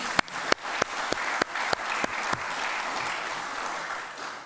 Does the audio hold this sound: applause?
yes